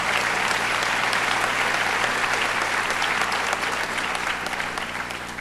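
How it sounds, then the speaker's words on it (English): A crowd at a 2013 high school graduation ceremony gives the graduating class a big round of applause, thick sustained clapping that holds steady and then starts to thin slightly at the end. "So give them a big round of applause."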